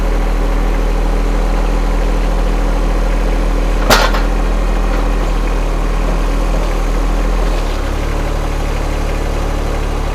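Steady engine hum from a John Deere sub-compact tractor fitted with pallet forks, idling close by at an even level, with one brief sharp click partway through and a slight drop in pitch near the end.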